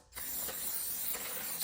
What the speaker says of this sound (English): So I'm just gonna brake clean, spray it down, and then use the torch to burn off all the oils that are in it.